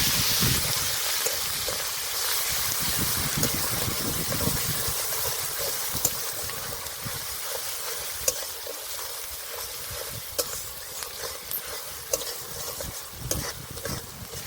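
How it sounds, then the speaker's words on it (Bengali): Onion paste fries in a pan while being stirred, giving a continuous close sizzle with scattered scraping and spatter pops throughout. "পেঁয়াজ বাটা পেঁয়াজটা একটু ভেজে নেব"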